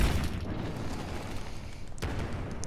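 Explosive shot in Star Wars Battlefront, heard as a dull, muffled game boom in a rumbling low-heavy bed, with a sharper burst near the end, no talking.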